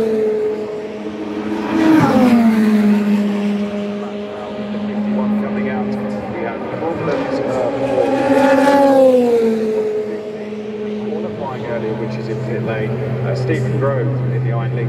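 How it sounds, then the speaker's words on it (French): Race cars at the Le Mans 24 Hours free practice, including the number 51 Ferrari heading out onto the circuit, swelling in loud engine passes around two and nine seconds over a steady trackside rumble, with talk running throughout. "There is but the Ferrari, if you're looking for that, number 51, that's on its way out onto circuit"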